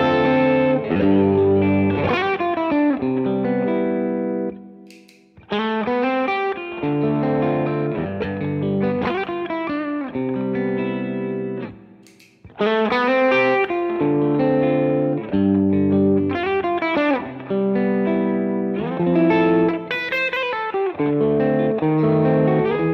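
Electric guitar played through an MH Pedals Tone Slave pedal, with boosted mids and a slight gain push: loud, driven chords and melodic phrases ringing with effects, pausing briefly twice before resuming.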